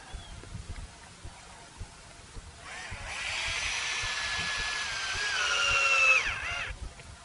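A power drill drives a screw into a rope fence post outdoors, whirring steadily for about four seconds and rising slightly in pitch before stopping, heard after a quiet stretch of faint background noise.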